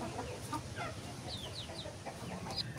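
A free-range hen on her nest clucks softly several times, short chirping calls scattered over a low, steady background hum.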